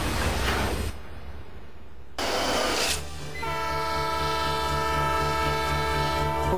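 The Spirit of Oregon, an old steam train in Oregon's coastal mountains, rumbles in two loud bursts, then sounds a long, steady, sustained whistle that holds to the end.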